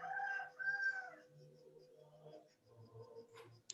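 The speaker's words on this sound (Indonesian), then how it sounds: "ayam." A rooster crows during an indoor prayer-honor session at a Pathfinder club in Manado. It is faint and partly masked by voices talking and other room noise.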